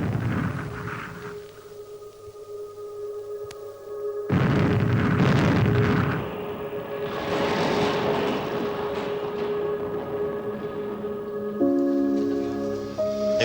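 British Army shelling of Liberty Hall, with heavy explosions and deep rumbling booms that swell loudly and roll on in a sustained, chaotic barrage, with a tonal hum running beneath.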